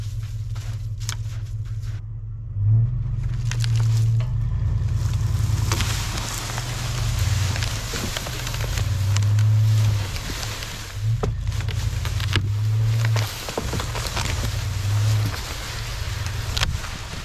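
A Toyota Tundra flatbed truck drags four trees through brush, its engine droning low and steady with repeated surges of load, under continuous wind and scraping noise.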